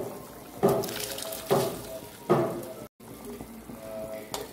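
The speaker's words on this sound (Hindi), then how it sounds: "ये देखें पानी बॉयल होना शुरू हो चुका है।" Water coming to a boil in a cooking pot while making chana rice, with bubbling and sizzling bursts rising and falling in a few surges over a steady watery hiss.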